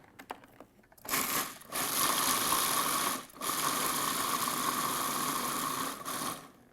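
A kitchen food processor blends pumpkin seeds with lemon and salt. It makes a loud, steady whirring grind in two runs separated by a brief pause, then stops.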